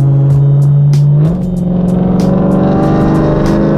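Loud close exhaust of a BMW E92 M3 with a straight-piped exhaust, a steady drone that drops slightly, then rises again as it revs up while doing donuts, with a raw rasping tone and no talking.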